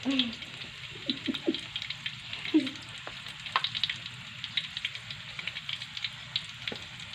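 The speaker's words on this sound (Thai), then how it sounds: "เราก็ค่อยๆทอดไปนะคะเพื่อนๆ" Stuffed omelette frying in oil gives a steady, fairly faint sizzle throughout, with a few soft clicks and knocks scattered across it and no voices.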